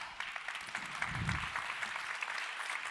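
Steady applause from an audience, many hands clapping continuously at moderate volume, with a brief low thump partway through.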